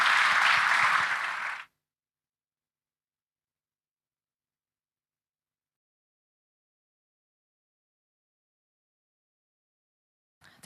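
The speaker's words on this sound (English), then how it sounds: "Let's have a round of applause for our guests." Applause for guests at a forum in Vilnius: a burst of audience clapping lasting under two seconds, then a long silence and a faint sound at the very end.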